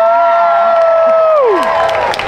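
Crowd cheering and whooping from a live theme-park audience at an Avengers Campus character show, loud and sustained, with a swooping tonal effect sliding down near the end.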